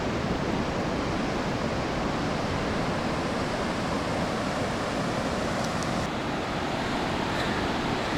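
Ocean waves wash onto a beach in Morocco with a steady, loud roar of surf and wind that carries on unbroken for about eight seconds, with no voices.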